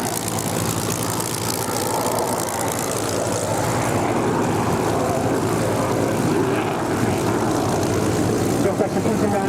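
A display aircraft flies at an air show, its engine sending out a loud, sustained roar that stays steady throughout while a voice commentates over it.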